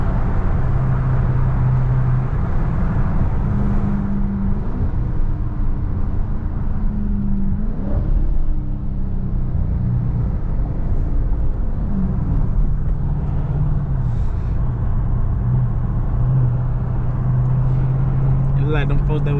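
A Dodge Scat Pack rumbles and revs as it accelerates hard and slides around corners on wet backstreets in the rain. Its engine note climbs and falls in repeated surges, and someone talks over it throughout.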